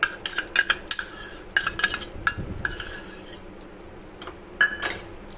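A spoon clinks and scrapes against a bowl while oregano, pizza sauce, mayonnaise, salt and pepper are mixed together, repeated irregular metallic taps close up, with no talk.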